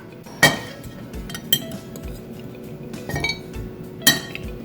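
A bowl being taken out and microgreen side salad with tomato, onion and peppers served into it, with several separate clinks and clatters of dishes and utensils, fairly close and clear, no talking.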